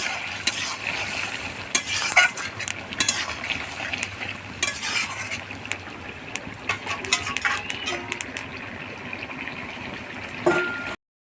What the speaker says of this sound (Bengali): করলা ভাজাগুলো এবার দিয়ে দেবো এর মধ্যে